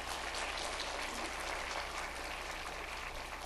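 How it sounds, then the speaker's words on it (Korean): Applause from a church congregation at a Korean worship gathering, a soft, steady wash of clapping that stays faint and distant for the whole stretch. "우리 하나님 앞에 먼저 영광의 박수를 올리겠습니다"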